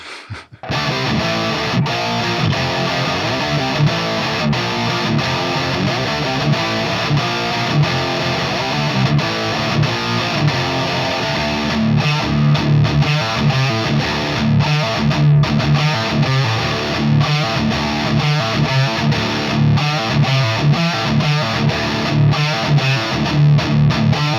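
Overdriven electric guitar plays continuously and loudly with a thick, distorted tone, mixing chugging low riffs and sustained chords, with no talk over it.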